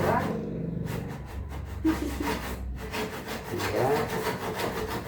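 Rhythmic rasping strokes of a hand saw cutting through a PVC wall panel, close and fairly loud, while a person speaks briefly.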